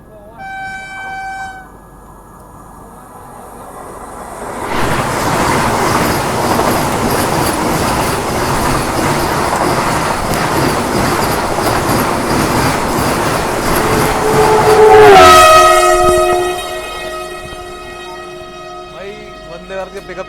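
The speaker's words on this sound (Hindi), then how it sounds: "सामने से आ रही है हमारी रानी कमलापति हज़रत निज़ामुद्दीन वंदे भारत एक्सप्रेस" The Rani Kamalapati–Hazrat Nizamuddin Vande Bharat Express rushes past on the crossing track, its rumble and clatter building and then peaking with a loud horn blast before fading away.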